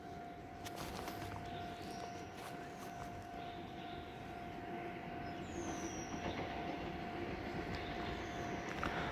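A nine-car DR2800 diesel multiple unit Tze-Chiang express train passes on the Yilan line, a steady rumbling roar of wheels and engines with a faint high squeal, heard from trackside without talk.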